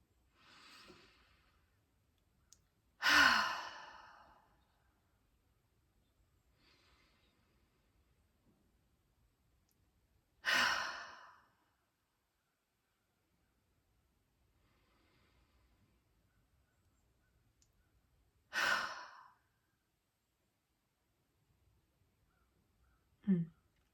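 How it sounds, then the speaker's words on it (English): Four deep guided breaths spaced several seconds apart in a quiet room, each a breathy rush in through the nose and out through the mouth, close and clear with near silence between. "I'd like you to inhale through your nose and exhale through your mouth."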